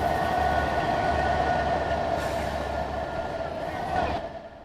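A train rolls past in the video game Trainz, a steady rumbling rush of rail noise that holds loud for several seconds and then fades, with wind noise from the passing cars.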